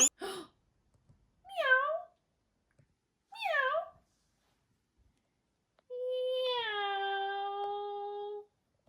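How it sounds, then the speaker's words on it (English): A cat meows indoors, giving two short rising meows a couple of seconds apart and then one long, drawn-out meow, each standing alone against a quiet room. "That's what the cat says"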